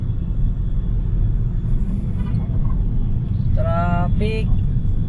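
Car cruising on an expressway, a steady low rumble of engine and road noise throughout, with brief talking near the end.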